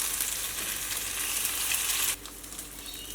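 An omelette fries in a pan with a loud, close hiss that runs steadily for about two seconds, then drops suddenly to a quieter sizzle, with no one talking.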